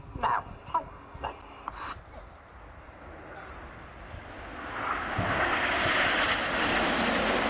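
Red Arrows jets roar in with smoke on for the Concorde bend at a Biggin Hill air display, engine noise swelling from distant to loud and broad, after a few dog barks and crowd sounds.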